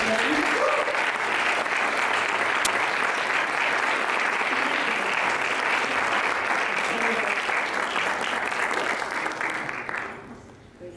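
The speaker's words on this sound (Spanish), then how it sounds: "les pido un aplauso para nuestra invitada" Cinema audience applauding a invited guest at a Q&A screening, a dense sustained wash of many clapping hands filling the room, steady and loud before tapering off at the end.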